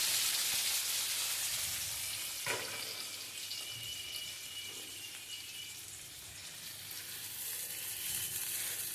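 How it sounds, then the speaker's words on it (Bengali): Onion fries with salt in a hot wok, a continuous bright sizzle and crackle that holds steady, with a brief scrape or knock near the start. "পেঁয়াজটা একটু নুন দিয়ে ভালো করে ভাজবো"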